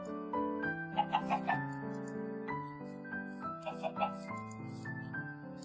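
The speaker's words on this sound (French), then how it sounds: "Il faut pas oublier de nourrir les poules." Minecraft chicken clucks, a few short bright calls over steady looping background music, fairly quiet.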